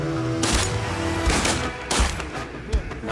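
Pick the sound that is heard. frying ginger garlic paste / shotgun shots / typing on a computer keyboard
shotgun shots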